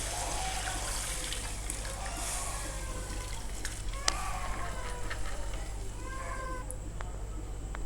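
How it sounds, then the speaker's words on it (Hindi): Soaking water from moong and masoor dal pours into a cooking pot, a soft continuous trickle and splash over a low steady hum, fairly close and faint. "मैंने जिस दाल में दाल भिगोई थी पानी में, वही पानी मैंने इसके अंदर डाला"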